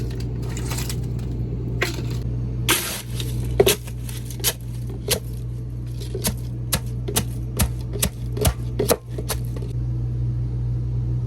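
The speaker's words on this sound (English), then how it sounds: "So I just put the eggs in here and then I just crunch it down." Eggshells are crushed down in a blender cup with a tamper, giving a series of sharp, close crunching clicks and cracks in an irregular rhythm over a steady low hum.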